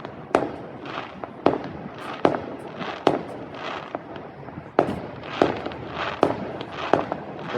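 Canada Day fireworks going off in a rapid series of sharp booms and crackling bursts, about a dozen blasts at uneven intervals with rumbling decay between them, fairly loud and alone.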